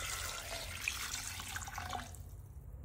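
Water poured into a pressure cooker holding goat trotters with turmeric and salt, a steady splashing pour that runs for about two seconds and then stops, close by with no talk.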